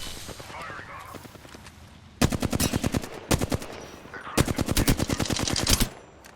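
Automatic gunfire from enemies in a shooter video game, with two long rapid bursts of loud, close shots separated by a brief pause, following a quieter stretch of mixed game noise and scattered shots.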